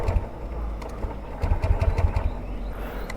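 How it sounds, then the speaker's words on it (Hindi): Honda motorcycle electric self-starter cranking repeatedly without the engine catching, a rapid whirring chatter in bursts, close by over low background noise. "सेल्फ ही नहीं उठा रही है, सेल्फ मार रहा हूँ।"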